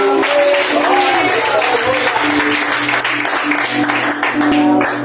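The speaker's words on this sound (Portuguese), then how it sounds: "E as palmas ao Senhor." A church congregation claps loudly and continuously for about five seconds, with voices mixed into the dense applause.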